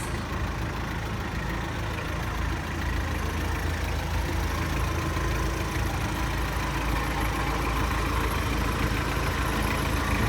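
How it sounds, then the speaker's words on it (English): A 1992 Toyota Hilux Surf engine idles steadily, a continuous broadband rumble with a smooth, even low throb, close and constant for the whole stretch with no talk. "Still here the idling is quite nice."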